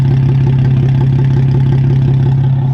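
Loud, steady engine idle from a Lotus sports car with a straight pipe exhaust, a deep, rumbling exhaust drone and a regular low pulse, close by and continuous throughout.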